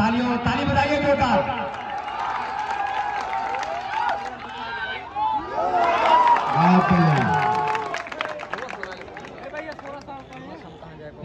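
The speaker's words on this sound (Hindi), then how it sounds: "शाबाश, तालियों ताली बजाइए बेटा" A crowd claps and cheers at an outdoor long jump competition in Sultanpur, Uttar Pradesh, the applause swelling in bursts over a steady murmur while a person talks loudly over it.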